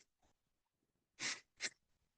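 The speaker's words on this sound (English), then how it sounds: "it's a two-part breath. You breathe first deep into your stomach and then your chest" A quick deep two-part Sufi breathing exercise: two strong, rushing nasal breaths in close succession after faint breathing, heard alone and fairly close.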